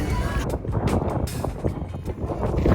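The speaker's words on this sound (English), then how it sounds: "the wind is brutal" Strong wind buffets the microphone outdoors on a city street in Washington, DC, with a steady low roar of gusts and a voice faintly underneath.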